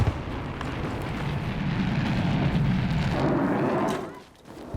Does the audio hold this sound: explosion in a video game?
yes